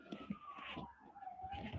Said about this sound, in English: I heard the siren